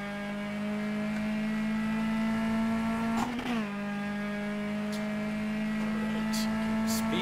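Race car engine in Copa Petrobras de Marcas racing game drones at steady pitch, with a brief downshift blip around midway, loud and continuous throughout.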